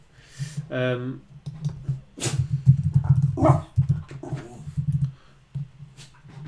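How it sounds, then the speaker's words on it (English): A dog barks and whimpers indoors in repeated short yelps and whines, mixed with a low steady hum and some clicking, with a person speaking at times. "Randy, this dog is crazy, man"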